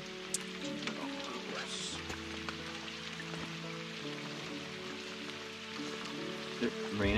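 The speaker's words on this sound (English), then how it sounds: "Raining out there?" Steady rain patters on a surface throughout, a constant wet hiss with scattered drops, with faint voices underneath.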